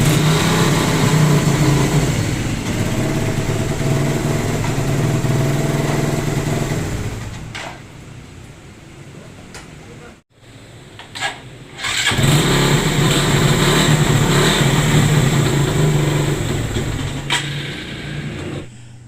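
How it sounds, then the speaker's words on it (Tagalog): A motorcycle engine with an unstable idle and a recently cleaned carburetor runs loud and close, sags, nearly dies, sputters briefly, then roars back to a steady, uneven idle. "ang problema ng motor niya is pabago-bago yung minor, no. Taas baba tapos hindi siya stable."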